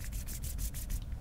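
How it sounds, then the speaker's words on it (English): Rhythmic rubbing or scraping in the horror video game Poppy Playtime, a steady run of repeated strokes heard alone at moderate, fairly close level. "It sounds like someone's rubbing something."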